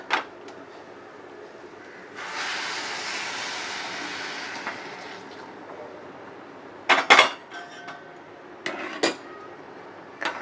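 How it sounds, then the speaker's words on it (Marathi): Hot water poured into rice in a pot for masala rice, a steady pouring rush lasting several seconds, then sharp metallic clinks of a pot and utensils, close and clear. "आता हे गरम पाणी घालून घ्यायचं आहे तांदळामध्ये"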